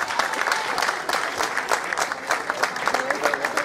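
A festival crowd at an urban art event claps and cheers for graffiti artists. The dense applause is loud and continuous, with scattered shouts.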